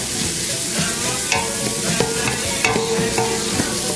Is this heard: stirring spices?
yes